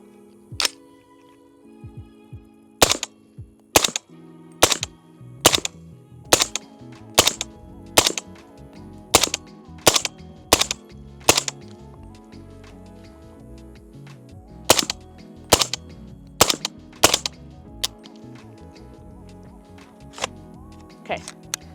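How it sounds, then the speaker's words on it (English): Suppressed 300 Blackout rifle firing subsonic rounds, a string of sharp muffled reports, some in quick pairs and others spaced a second or more apart, standing out loud and close over a low background hum. "So here we go with shooting suppressed."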